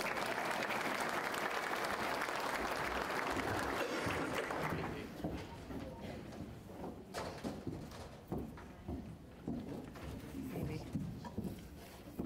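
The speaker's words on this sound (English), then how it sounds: "You can applaud for Teresa." Loud applause from an awards-ceremony crowd for the first few seconds, then fading into scattered room noise and shuffling.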